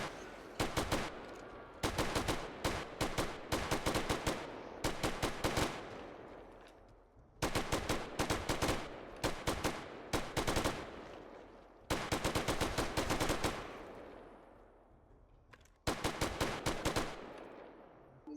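Rapid bursts of automatic gunfire in the survival game 7 Days to Die, loud and close, coming in several long strings of shots separated by brief pauses.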